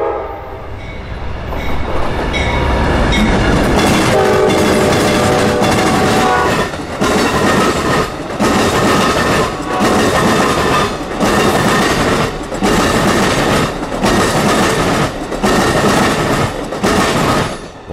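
Amtrak 92, the northbound Silver Star passenger train, rolls loud and close across a railroad diamond, its wheels pounding out a steady rhythmic clatter of repeated clunks over the crossing, with a horn sounding early on.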